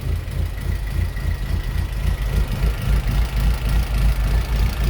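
A 1994 Vauxhall Astra GSi engine idling roughly and unevenly, a steady low rumble with a lumpy, stuttering pulse throughout, close by and fairly loud.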